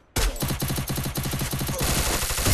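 Rapid automatic gunfire in the Garena Free Fire battle-royale game, a loud burst of evenly spaced shots starting abruptly and continuing through, with no talk.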